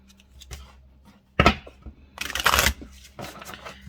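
A deck of oracle cards is shuffled close by: a few soft riffles and taps, then a louder rapid riffle, and another quieter one after.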